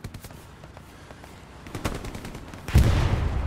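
Machine gun fire rattles in the WWII shooter Hell Let Loose, soft distant bursts early building to louder, closer sustained firing toward the end.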